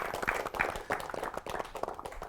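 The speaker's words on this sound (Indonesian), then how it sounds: "Boleh tepuk tangan dong buat Baso." Audience applause in a television studio for a performer, heard as a quiet, uneven patter of clapping bursts that fades and returns over a couple of seconds.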